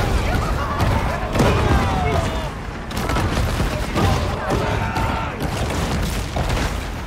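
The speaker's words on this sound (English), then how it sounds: "Have you tried to stop shooting at me?" Dense, continuous gunfire in the Maneater video game, aimed at the player's shark. The bursts and booms come loud and close, overlapping with no pauses.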